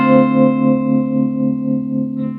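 An electric guitar plays through a 1962 Fender Concert tube amp with replaced tubes and no pedals or reverb, giving one loud, clean sustained chord that rings with rich harmonics and slowly fades.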